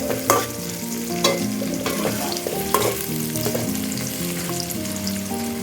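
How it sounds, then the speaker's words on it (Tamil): Chopped nuts fry in a pan with a loud, close sizzle that runs throughout, broken by frequent scraping stirs and occasional sharper clatters of the spatula. "இந்த நட்ஸ் வந்து ஃப்ரை பண்ணும் போது ரொம்ப ஒரு டேஸ்டி அண்ட் க்ரன்ச்சியான ஒரு ஸ்மெல் வந்துகிட்டே இருக்குது"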